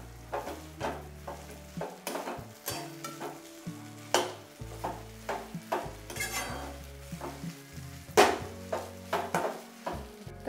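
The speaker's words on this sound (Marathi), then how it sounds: "आता हा व्यवस्थित असा आपण परतून घेऊया." Sticky wheat bran dough being stirred in a hot pan, with a continuous sizzle and frequent scraping and knocking of a spatula against the pan in an irregular rhythm, close up.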